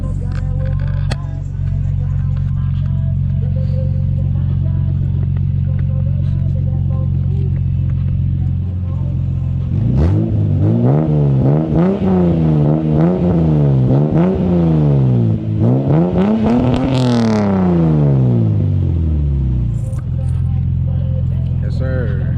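A Lexus SC300 with a five-speed manual idles with a steady low exhaust rumble, then revs repeatedly in rising and falling surges while driving before settling back to idle; loud and close.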